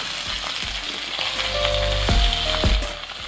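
Beans, pumpkin and flat beans fry in a pan for vegetarian khichuri, giving a loud, close, continuous sizzle with a few knocks of stirring and no speech.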